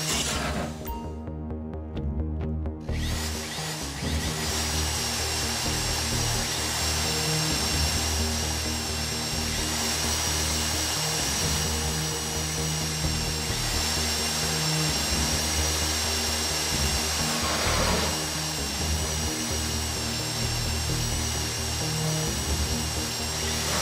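A drill grinds steadily through a vault door lock during a heist in Grand Theft Auto V, a loud continuous whine with a brief dip early on, with no talking.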